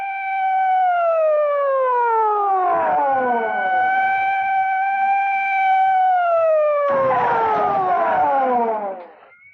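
Wailing police car sirens rise and fall, several overlapping as they sweep past on a runway, loud and close, with bursts of engine rumble before fading out at the end.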